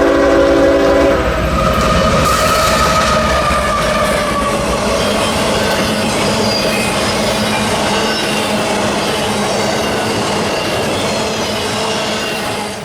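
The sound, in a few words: freight train passing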